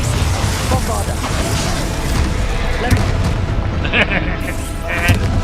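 Bombarda blasting spell going off in the Hogwarts Legacy video game, a dense booming rumble with sharp crackling bursts layered over loud continuous game sound and music, with voices heard through it.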